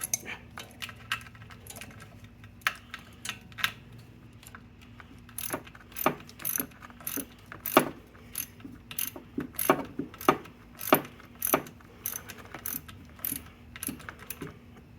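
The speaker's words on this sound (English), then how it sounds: "I'm gonna try and give those a little extra here with a ratchet." Rapid metallic clicking of a ratchet tightening fasteners on a 1979 Vespa P200E Piaggio engine during a rebuild, with bursts of quick clicks growing denser and louder midway, close up over a steady low hum.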